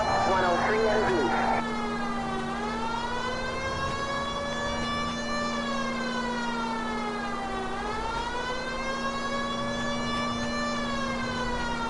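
A police car siren wails in L.A. Noire, a continuous rising and falling electronic tone that sweeps steadily and loudly for the whole stretch, with a brief burst of other noise and talk near the start.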